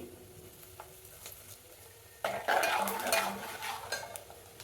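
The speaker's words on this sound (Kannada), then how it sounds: "ನೋಡಿ, ಫ್ರೈ ಆಗ್ತಾಯಿದೆ. ನೋಡಿ, ಸ್ವಲ್ಪ ಜೀರಿಗೆ ಹಾಕ್ತಾಯಿದ್ದೀನಿ." Cumin seeds dropped into hot oil for mango rice, a quiet pan hiss that jumps into a louder crackle and spatter midway, close up, with faint stirring and utensil clinks and no talk.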